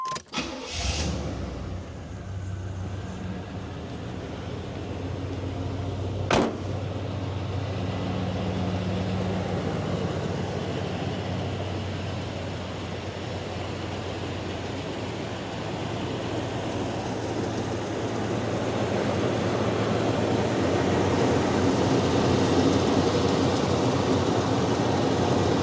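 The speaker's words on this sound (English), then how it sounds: "Let's start her up." A 1987 Chevrolet Monte Carlo SS Aerocoupe with a V8 cranks and fires up, then settles into a steady, fairly quiet rumbling idle that swells slightly toward the end.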